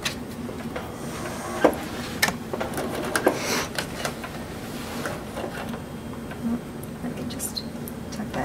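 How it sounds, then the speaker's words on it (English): A sewing machine runs a steady stitch along the bottom seam of a tote bag made from a recycled T-shirt, with a continuous mechanical whir and a few sharper clicks and knocks close by. "All right, we're going to sew."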